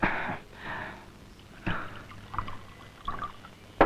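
Liquor is poured into a glass at a drinking session, heard as a few short, close bursts of liquid splashing separated by brief pauses. No one speaks.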